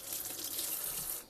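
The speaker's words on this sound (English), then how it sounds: "Let me just top up the water a little bit." Water runs steadily from a tap for a short moment to top up a container of Syngonium plant cuttings, a close, continuous splashing hiss with no talk.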